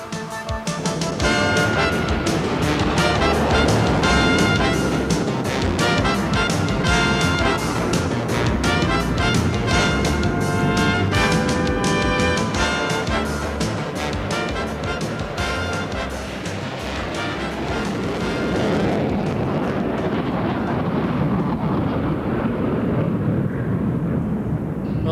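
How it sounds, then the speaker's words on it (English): US Air Force jets on afterburner in snowy valleys, a sustained heavy roar that rumbles loud and continuous for a long stretch, then thins into a duller echoing rush toward the end. "the thunder of afterburners echoing through snow-laden valleys"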